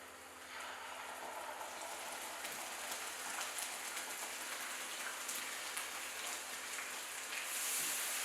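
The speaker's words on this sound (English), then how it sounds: "We're going to saute it till the raw smell leaves the pan" Ginger and garlic sizzle in a pan with browned onions for an oxtail vindaloo, a steady dense crackle of frying that holds evenly throughout with no voices.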